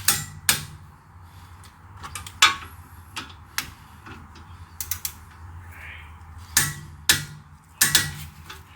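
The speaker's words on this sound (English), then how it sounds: "First I'll go up to about 55 Newton meters with this torque wrench" Torque wrench tightening front brake bolts on a BMW E30 318i being upgraded to 325i brakes, giving sharp ratcheting clicks and metallic ticks in irregular bursts, close and fairly loud, with no talking.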